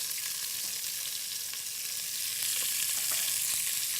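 Carrots, celery and garlic frying in a pan give a steady, bright sizzle with faint crackles, close and continuous, growing slightly louder midway, with no talking.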